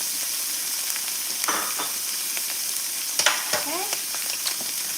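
Pork chops pan frying in oil give a steady, soft sizzle with scattered crackles and a few sharp pops near the middle and end, heard alone at moderate distance.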